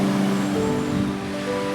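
A waterfall beside an old riverside building on the Grand Creuse, giving off a steady, full roar of rushing water that holds at an even level throughout, with no voices.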